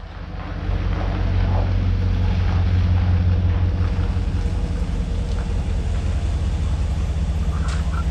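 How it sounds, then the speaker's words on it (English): A Ram pickup truck with a loud aftermarket exhaust idles and rolls in close by. Its deep, steady engine rumble swells in after the first second and holds, with some wind noise over the microphone. "I heard her a mile away because of that exhaust system."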